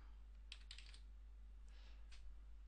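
A few quick bursts of keystrokes on a computer keyboard, faint and close, separated by a pause, over a steady low hum.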